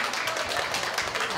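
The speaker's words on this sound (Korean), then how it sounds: "박수 한번 주세요." An audience at a 2017 charity bazaar applauds with dense, steady clapping that fills the whole brief moment at moderate loudness.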